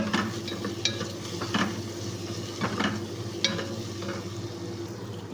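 Saluna with lemon powder being stirred in a pan, a continuous sizzle broken by several sharp spoon-on-metal scrapes and clinks, close and steady with no talk.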